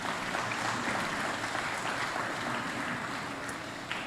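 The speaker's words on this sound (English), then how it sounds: "Round of applause for them" Faint applause from an audience at a school's 25th anniversary celebration, a steady wash of clapping throughout, heard from a distance.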